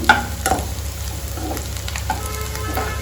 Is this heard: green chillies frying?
yes